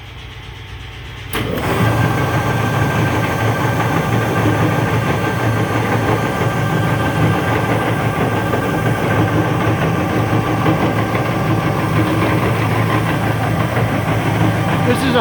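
A Doall 12 by 18 inch horizontal metal cutting bandsaw starts up after a quiet second and then runs steadily and loudly, a constant mechanical drone with a faint high whine holding throughout.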